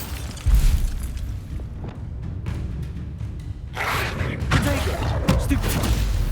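A Bombarda spell explosion from the video game Hogwarts Legacy, a loud booming burst followed by rumbling crackle and further blasts of combat effects, dense and sustained through the scene.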